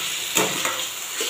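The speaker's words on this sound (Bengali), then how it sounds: "আর এখানে হচ্ছে আলু ভাজা।" Sliced potatoes fry in hot oil in a pan, a close, steady sizzle with a few louder crackling bursts.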